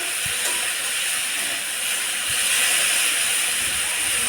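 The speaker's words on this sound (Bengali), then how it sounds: "তো দেখো চচ্চড়িটা ভালো করে ভাজছি।" Chorchori, a mixed vegetable dish, frying in a pan with a constant hissing sizzle and a couple of soft low knocks from the pan, no one talking.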